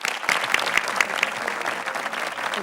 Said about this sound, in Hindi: टीम सी के लिए पहले जोरदार तालियां होनी चाहिए।